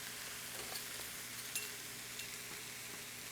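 Garlic goes into kale frying in a pan, producing a soft, steady sizzle with a few faint clicks and stirring sounds, quiet and without talk.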